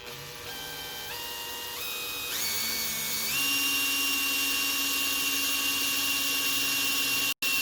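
A drill spins up in stepped rises of pitch and then holds a steady, loud whine while boring a hole, with no talking over it.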